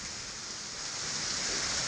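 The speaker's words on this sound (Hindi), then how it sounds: "आज तो बहुत ज़्यादा बारिश हो रहा है और होगा।" Heavy rain falls in a steady, dense hiss that swells slightly louder toward the end, with no voices and no distinct thunder.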